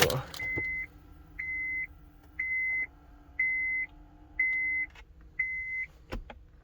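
A replacement car radio in a Honda Accord powers on with the engine off, giving six evenly spaced electronic beeps about a second apart, clear and close, with a few sharp clicks near the end.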